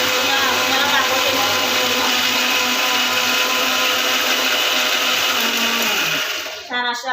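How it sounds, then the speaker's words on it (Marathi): A kitchen mixer grinder whirs loudly and steadily as it grinds a vegetable masala, a constant close motor drone that winds down and stops near the end. "चला तर आपण ग्राइंड करून घेऊ मिक्सर मध्ये."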